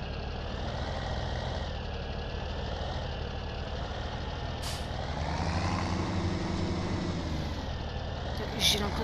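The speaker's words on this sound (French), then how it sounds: "J'ai l'impression d'entendre une voiture." A car engine in the video game Farming Simulator 17 rumbles steadily with a low hum that swells slightly as it draws nearer, set against a constant background drone.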